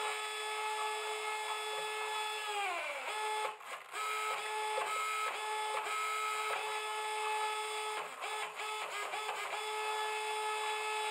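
A powered traverse mechanism runs through its travel with a steady, loud electric motor whine, its pitch sliding down once early on and then holding, broken by several short rattling knocks near the middle and end.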